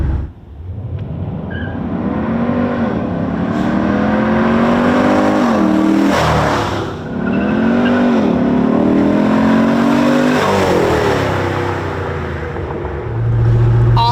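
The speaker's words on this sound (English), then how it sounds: "The engine sounds fantastic, of course." A loud, deep V8 engine in a Jeep revs up through rising pitch sweeps, drops briefly as it shifts, then climbs again with a continuous throaty roar.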